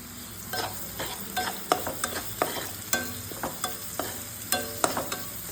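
Tomatoes and dried curry leaves sauté in a pan for a Kerala-style tuna curry, with a constant soft sizzle and frequent sharp scrapes and taps of a spoon stirring against the pan.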